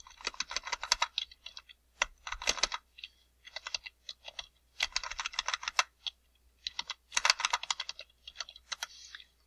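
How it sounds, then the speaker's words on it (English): Quick bursts of typing on a computer keyboard, clusters of crisp key clicks separated by short pauses, close and clear with no voices. "So just go ahead and type flower."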